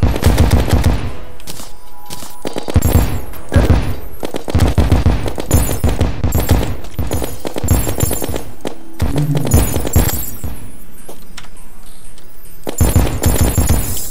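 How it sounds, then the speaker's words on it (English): Rapid bursts of exploding bullets fire in Terraria, loud and dense, with staccato volleys repeating throughout and only short gaps between them. "Exploding bullets."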